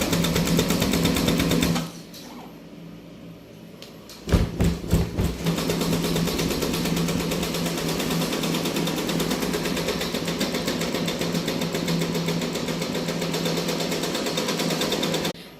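A computer embroidery machine stitches green thread for a customised design, running in a steady, fast mechanical rhythm after a short pause and restart, close and continuous.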